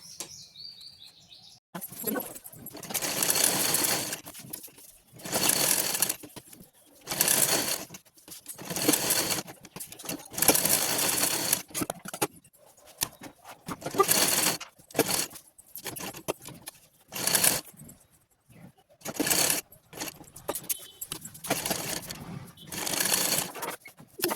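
A sewing machine stitches extra fabric around the edges of a short kurta in repeated short bursts, about a dozen close, loud runs separated by brief pauses.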